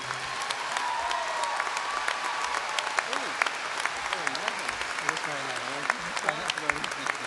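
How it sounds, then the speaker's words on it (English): Applause from the audience at a community college commencement ceremony, many hands clapping steadily for an honorary degree recipient, with voices speaking and calling out faintly underneath. "Let's join us in a round of applause for Robert J. Greeley."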